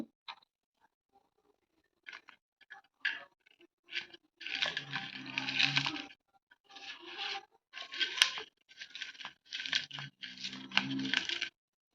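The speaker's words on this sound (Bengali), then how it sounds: "এবার আলুর সাথে এই যে লঙ্কাগুলো ভেজেছিলাম এই লঙ্কাগুলো মাখাবো আর লবণ দিয়ে যতটা লবণ লাগে দিয়ে দেবো" Boiled potatoes being mashed by hand with fried chillies and salt: close, intermittent squelching and crunching bursts separated by short silences, fairly quiet, with no talk.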